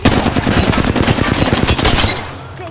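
Rapid automatic gunfire in the Apex Legends battle royale shooter, dense bursts of loud shots rattling continuously for the whole stretch before easing slightly at the end.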